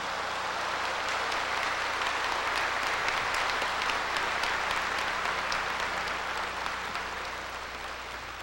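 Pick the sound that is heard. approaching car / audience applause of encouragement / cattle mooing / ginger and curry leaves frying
audience applause of encouragement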